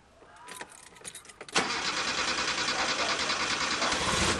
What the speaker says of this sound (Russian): заводим машину, даем ей нагреться до рабочей температуры